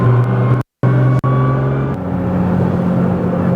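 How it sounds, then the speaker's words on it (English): A twin-turbo 2014 Nissan GT-R tuned to 1380 wheel horsepower accelerates hard from inside, engine roaring and whining upward with a couple of abrupt dropouts as gears shift, then a steady drone. "You hear the turbos just spewing."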